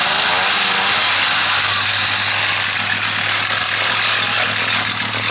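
A gas-powered hole digging machine engine runs steadily and loud at close range, a continuous droning note with a slight rise in pitch as the throttle opens after warm-up, no voices over it.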